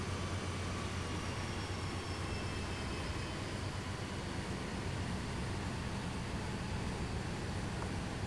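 A Santa Fe train in a train simulator game set on Cajon Pass in the 1990s gives a steady, continuous low rumble and roar with faint high whine, loud and unbroken throughout, with no talk.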